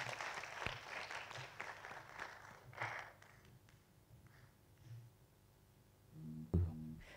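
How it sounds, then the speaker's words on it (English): An audience at a university youth debate contest applauds the debaters, a moderate crowd of clapping that fades over several seconds before a few scattered creaks and thumps. "Another round of applause for all of our debaters."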